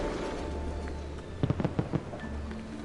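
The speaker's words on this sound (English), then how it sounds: "nobody's shocked to hear the pistol that I'm shooting repeatedly" Pistol shots in the video game Assassin's Creed 2 during Carnivale, a quick burst of about five sharp cracks fired in rapid succession over faint background ambience.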